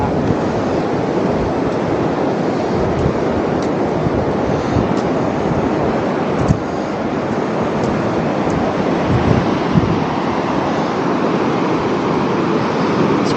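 Pacific Ocean surf rolls in at Long Beach near Tofino at low tide, a constant broad roar of breaking waves mixed with gusty wind buffeting the microphone, steady and loud with no talking.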